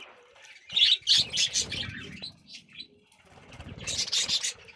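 Birds flap their wings in bursts while splashing, with scattered chirps and squawks, close by and fairly loud.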